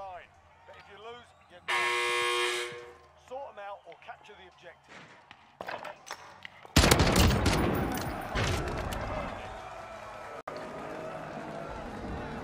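Gunfire in Call of Duty Warzone gameplay crackles in bursts, with a loud sustained volley in the second half, mixed with game effects and players talking over it.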